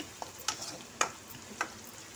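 Onions and cashews frying on medium heat in a pan, a quiet sizzle broken by a few sharp scrapes and clinks of a spoon stirring.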